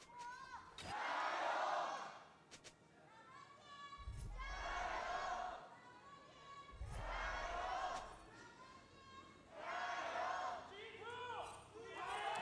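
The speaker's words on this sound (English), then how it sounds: "Someone in the crowd just yelled G2." A live esports crowd at an LPL match in Shanghai between Top Esports and LGD erupts in repeated loud shouting bursts, with cheers rising and falling in waves and one voice yelling out a team name.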